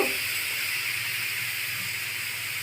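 Water poured into a hot pan while cooking aloo kulcha gives a steady, bright steam hiss that starts abruptly and holds fairly evenly, with no voices present.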